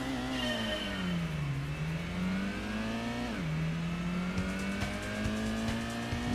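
A Mitsubishi Galant VR-G Touring car in the PlayStation racing game Gran Turismo revs hard through gear changes, its engine whine climbing, dropping and climbing again at close range, with faint tire noise and no voices.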